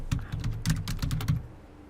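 A short burst of keystrokes on a computer keyboard, a quick run of clicky taps close by, trailing off into quiet.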